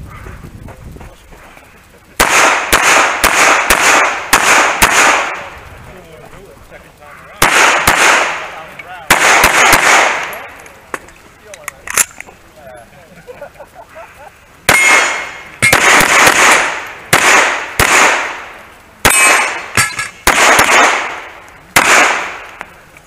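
Pistol gunshots ring out on an IDPA shooting stage, loud sharp cracks fired in quick bursts of two to four with pauses between strings, close to the microphone, with faint background noise between volleys.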